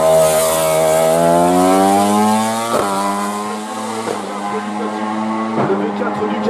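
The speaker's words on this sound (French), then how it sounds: "Le V4 Ducati de FX Thieban." Ducati V4 race motorcycle at a hill climb, its engine howling loud and close as revs climb through gears with sharp shift cuts, then passing and fading slightly, with a commentator talking over it.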